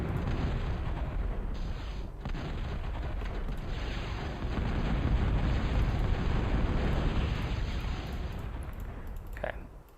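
Valkyrie bombers unleash continuous bombing explosions in a strategy video game, with a heavy, rumbling barrage of booms rolling on without pause, ending in a few sharper bursts.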